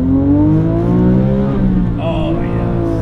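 A modified Porsche 997.1 GT3 engine revs hard in first gear and climbs steadily in pitch, loud and close, then eases off briefly before pulling again.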